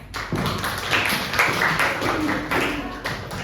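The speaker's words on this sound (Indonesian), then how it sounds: "Boleh tepuk tangan untuk temennya." A classroom of students claps for a classmate, with a dense, noisy burst of applause lasting a few seconds at close range.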